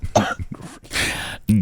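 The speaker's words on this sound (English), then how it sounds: "The cough." A person coughs a few times in quick, throaty bursts, close and fairly loud, with a brief pause between the hacks.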